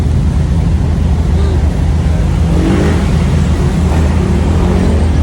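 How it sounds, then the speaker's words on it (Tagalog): Heavy road traffic during holiday travel near a festival park, a continuous loud low engine rumble of many vehicles with wind buffeting the microphone, no clear single passes standing out. "sobrang traffic"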